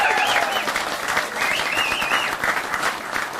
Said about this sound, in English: You can never applaud too much at an event like this